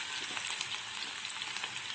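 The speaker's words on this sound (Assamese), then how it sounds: "এতিয়া এই পিঁয়াজখিনি ধুনীয়াকৈ ৰঙচুৱা হোৱাকৈ অকণমান ভাজি ল'ব" Onions frying in a pan give a continuous, even, bright sizzle heard close up with no voices.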